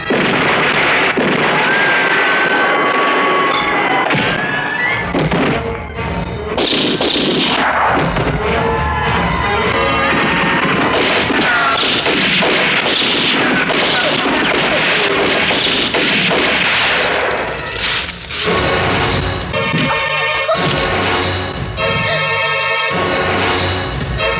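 Dense, continuous gunfire in an action movie scene, with booming blasts and bursts of shots, loud and chaotic throughout with no pause.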